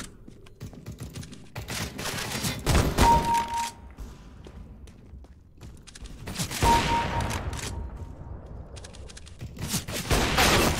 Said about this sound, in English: Stop shooting me. Who's shooting me?